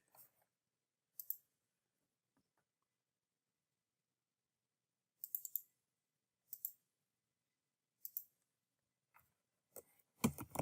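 Computer mouse clicks made while creating organizational units in Active Directory, sparse single and double clicks spread across a quiet stretch, close and crisp, with a louder cluster at the end.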